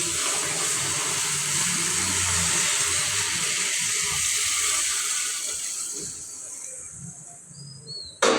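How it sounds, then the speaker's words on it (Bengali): Water pours into a pot of rice for chicken pulao, a continuous rushing splash for about six seconds that tapers off and stops, followed by quiet with a short clatter at the very end. "এই যে আমি পানি দিয়ে দিলাম"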